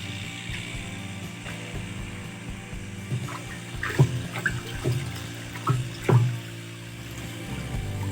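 Water mixed with pesticide is poured from drums into a spray tank in a cashew orchard, a steady trickling and gushing flow with a few sharp clunks and knocks from the containers midway, close and moderately loud, without talk.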